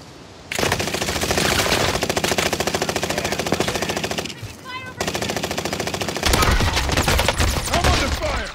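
Video game gunfire in Warzone Caldera: dense, rapid automatic bursts sounding loud and close, with a short lull midway before heavier firing resumes.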